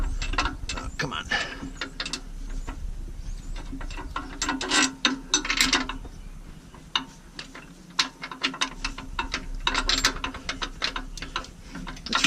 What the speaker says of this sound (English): we're going to start getting the bolts back in.